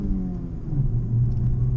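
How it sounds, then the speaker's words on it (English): A Honda Civic Type R's turbocharged engine rumbles low while accelerating, a deep steady drone with a slowly shifting pitch heard from inside the car. "you can hear the turbos pull"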